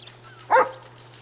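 A single short dog bark in the video game GTA V, one clear yelp over a quiet background with a low steady hum.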